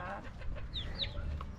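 Chickens cluck in a backyard coop on a small farm, a close, busy stretch of short clucks and a few higher squawks over a low background rumble.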